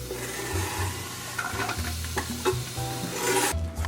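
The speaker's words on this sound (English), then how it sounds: "The first step with the sauce is to cook the onions in a little bit of olive oil until they're translucent." Onions cooking in a little olive oil for a spaghetti sauce, a close continuous sizzle with rasping spoon stirs and low scraping against the pan.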